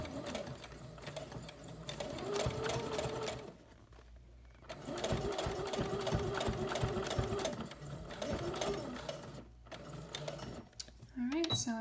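A sewing machine stitches a fabric tote bag in long whirring runs, pausing briefly partway through, with a voice talking over it near the end.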